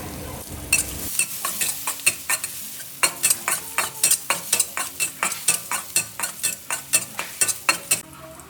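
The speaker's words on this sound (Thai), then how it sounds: "แล้วใส่พริกกระเทียมที่ตำไว้เมื่อกี้ลงไปผัดค่ะ" Vigorous stir-frying of pounded chili and garlic in a hot pan: a steady sizzle of oil under rhythmic scraping strokes of a utensil, close and fairly loud.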